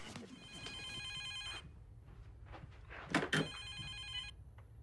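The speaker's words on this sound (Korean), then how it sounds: "한 통의 전화를 받게 됩니다" A telephone rings with repeated electronic trills, fairly faint, over a low background hum, with a couple of brief louder knocks partway through.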